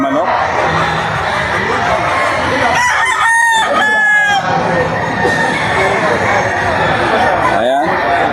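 Gamecock roosters crow repeatedly, several loud rising-and-falling calls up close among clucking fowl, with people talking and a crowd murmuring in the background.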